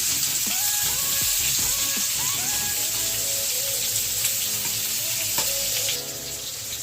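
Steady, close sizzling of young jackfruit pieces and potato frying in a pan, an even hiss that holds for several seconds before softening slightly near the end.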